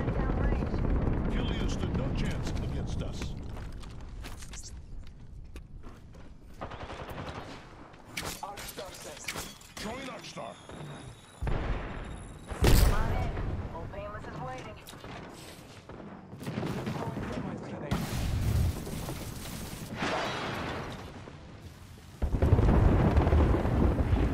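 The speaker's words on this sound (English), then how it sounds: "Calling the airstrike." Airstrike explosions in the video game Apex Legends, a series of loud booming blasts and rumbles mixed with gunfire, with a voice talking over the top.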